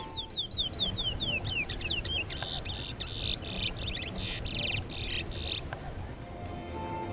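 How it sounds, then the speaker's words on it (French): Picolette songbirds, tamed by villagers in a remote Amazon jungle village, sing in rapid series of high chirps and trills, some sweeping, some clipped, fairly close over a soft ambient background. "des oiseaux que les habitants apprivoisent pour leur chant si particulier"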